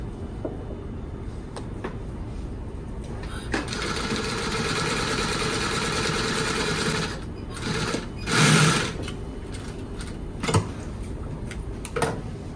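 A sewing machine stitches chair cushion fabric in a long, steady whirring run, then stops and starts in shorter bursts, loud and close with no talking.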